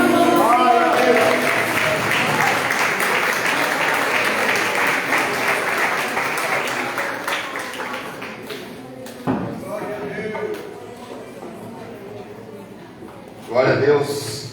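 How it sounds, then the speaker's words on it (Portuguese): A crowd claps loudly and steadily, the applause gradually fading, followed by a few scattered thumps and a brief burst of noise near the end. "As palmas vão ao Senhor."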